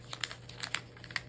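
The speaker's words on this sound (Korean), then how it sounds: "이런 집 모양이 되셨으면은 얘를 반으로 접어주시는 거예요." Colored paper being folded in half during a craft lesson, giving soft, quiet crinkles and a few brief papery taps spread across a short stretch, with no talking.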